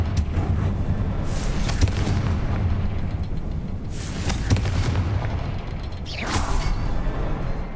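Explosions from the Confringo spell in the video game Hogwarts Legacy, several booming blasts with rumbling bursts over a continuous low roar of game sound, no voices.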